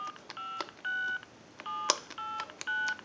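An AT&T 530 Trimline telephone dials a series of touch-tone numbers on its keypad, giving six crisp two-note beeps in a quick uneven rhythm with a sharp click midway, close and fairly faint, no talking.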